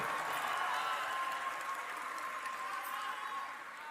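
A crowd's steady applause at an Indonesian political rally fills the space as a dense wash of clapping, then eases off slightly near the end.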